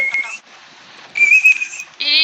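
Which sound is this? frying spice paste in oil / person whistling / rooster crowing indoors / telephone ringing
person whistling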